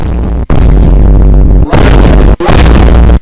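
Aalto's attack in a video game sets off very loud, dense bursts of explosions in a continuous roar, broken by two short gaps, close and overwhelming with no talk.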